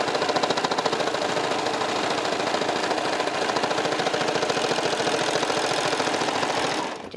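A serger stitching clear elastic onto knit fabric, a fast steady mechanical whir with rapid needle chatter running for several seconds before slowing to a stop at the end.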